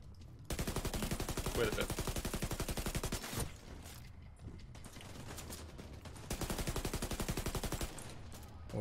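Rapid automatic gunfire from the video game The Division 2 rattles in two long sustained bursts with a short pause between, loud and close, while players talk briefly over it.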